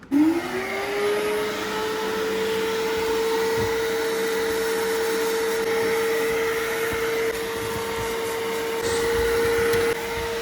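A vacuum cleaner fitted with a nozzle runs continuously, loud and close, with a steady whine throughout.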